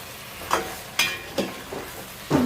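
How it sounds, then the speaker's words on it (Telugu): Country chicken curry coated in chili powder is stirred in a pan. Four or five short scraping strokes sound close by over a faint low sizzle, with no speech. "ఒకసారి కలుపుకుందాం."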